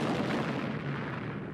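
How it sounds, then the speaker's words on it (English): An enormous cannon bursting apart in a dramatic story sound effect: a loud, dense roar of blast noise that rumbles steadily through the whole moment with no quiet gap. "It exploded."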